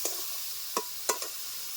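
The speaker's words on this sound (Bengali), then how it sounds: "দিয়ে দিচ্ছি টমেটো কুচি" Chopped tomato for a jackfruit curry drops into a hot pan, with a few short sizzling bursts over a steady background hiss.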